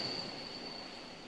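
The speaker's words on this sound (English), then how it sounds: "Luke, I am in train station, man." Ambient sound inside a train station: a continuous low rumble of rail traffic with a thin, sustained high squeal like wheels on track, steady and moderately quiet, without speech.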